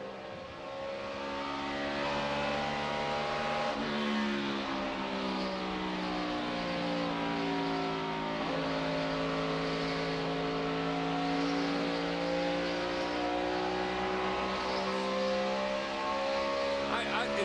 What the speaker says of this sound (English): It sounds like it broke a rocker arm, something in the engine itself